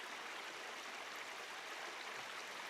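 A river swollen by recent rain at Londolozi flows steadily in the background, a continuous broad rushing wash of water with no voices or other sounds over it.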